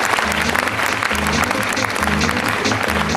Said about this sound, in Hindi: आपकी जोरदार ताली होगी।